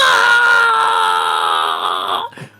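A woman lets out one long, high, sustained scream that carries for about two seconds at close range before it cuts off into a short breathy gasp.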